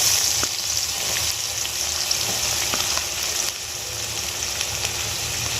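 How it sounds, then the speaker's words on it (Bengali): Chopped onion sizzling in hot oil with cinnamon and dried chillies for a Bengali chicken kosha, a steady close crackling fry with occasional stirring clicks and no talk. "এবার আমি পেঁয়াজ কুচিটা দিয়ে দেবো।"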